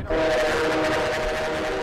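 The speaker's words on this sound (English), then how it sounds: "There's a lot of train noises in that." A film train whistle sounds loud and sustained, a steady tonal blast that holds across the whole moment over a rumbling rail background.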